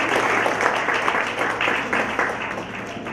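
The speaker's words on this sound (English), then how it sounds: "Let's give them a big round of applause." Audience clapping after a team's business pitch presentation at a youth entrepreneurship competition final, a full crowd of hands applauding steadily with slight swells, close and fairly loud throughout.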